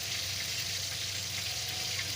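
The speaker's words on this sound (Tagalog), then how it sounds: "Kumukulo-kulo na." Pot of squash and okra boiling, a steady, loud, close bubbling hiss with no breaks, heard alone with no talking.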